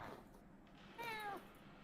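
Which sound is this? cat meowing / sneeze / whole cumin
cat meowing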